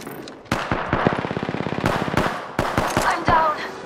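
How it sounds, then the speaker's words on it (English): Rapid automatic gunfire rattles out in Apex Legends on Nintendo Switch, a long run of close, sharp shots with a few separate heavy reports and brief pauses between bursts. "Shooting."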